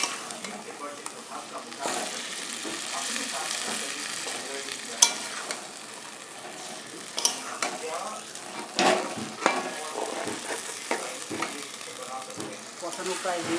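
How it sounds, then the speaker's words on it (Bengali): Meat sautéing in a pan for a kosha curry: continuous sizzling with frequent scraping and stirring clatter from a utensil, moderately close, steady throughout. "সুন্দর করে কষিয়ে নিয়ে জল দিয়ে দিব।"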